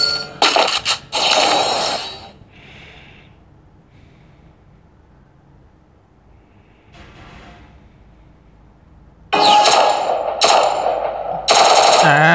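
Bursts of rapid automatic gunfire in a mobile shooting game, loud and close, opening the stretch, falling silent for several seconds, then returning in heavy volleys near the end.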